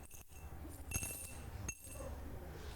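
Coins drop into a glass cup in a classroom, giving a few bright clinks spaced apart, faint against a quiet room.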